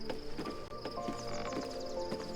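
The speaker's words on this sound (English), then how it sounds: "each footstep, you can tell what I'm walking on" Footsteps of a character walking in Baldur's Gate 3 tap out at a steady pace, with hard, hoof-like clicks under a soft tonal music bed.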